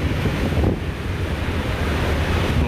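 Ocean waves surge while strong wind buffets the microphone at a ferry ramp, a loud, continuous roar with no voices.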